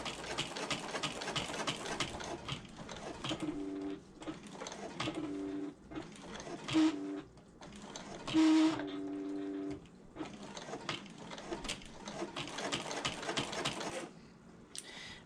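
A sewing machine stitches the interior pockets of a fabric bag in short bursts with brief pauses between them, as a corner is pivoted one stitch at a time. The rattling hum is close and moderately quiet, with no talk.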